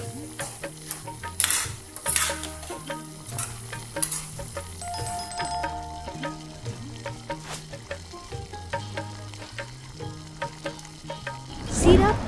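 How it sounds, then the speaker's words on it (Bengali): Soaked tamarind is stirred into a sweet-sour dried jujube (kul) pickle with jaggery and spices in a pan, making continuous sizzling with repeated scraping and clinking spoon strokes, close up and fairly loud, with no speech. "এবার ভিজিয়ে রাখা তেঁতুল যোগ করুন এবং ভালো করে মিশিয়ে দিন।"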